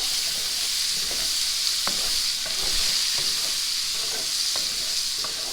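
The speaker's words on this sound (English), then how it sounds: "now we're going to cook our onions about 4 minutes until they're soft" Onions cooking in two or three tablespoons of oil for bacon fried cabbage, a loud continuous sizzle and hiss close up with occasional soft stirring clicks.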